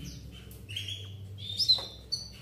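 A male F3 paud bird gives a few short, sharp chirps and tweets. The calls are faint but close, spaced irregularly over a low hum, with no voices.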